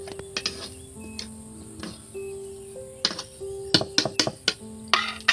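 Lote fish curry with garam masala being stirred in a pan: irregular sharp clicks and taps of a utensil against the pan, close and moderately loud, over a faint hum.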